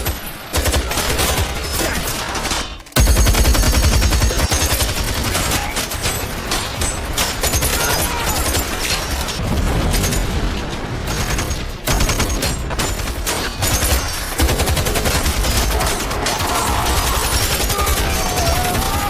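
Sustained bursts of automatic gunfire rattle through a heist shootout in an action film, loud dense fusillades with a few short breaks, running for the full length with no clear talk.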